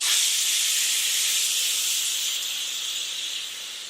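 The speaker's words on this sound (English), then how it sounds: "As fast as I can, I just like swipe that pressure valve." Steam rushes from the pressure release valve of an Instant Pot in one loud, continuous hiss, close and steady before easing slightly toward the end.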